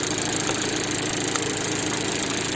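A Fiat Albea 1.2 16V engine idles as it warms up after an antifreeze refill, a steady, even rumble close by that continues without a break and with no voices over it.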